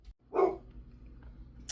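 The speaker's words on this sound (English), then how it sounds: "My dog is barking at a delivery truck, I think." A dog barking at a delivery truck, a single short muffled bark from somewhere nearby indoors, followed by quiet room noise.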